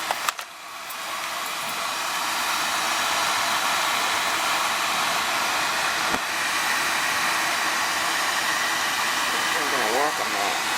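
An oil burner fires up on a newly installed oil tank, settling into a steady, loud roaring whoosh of flame and fan that continues unbroken after a few clicks at ignition.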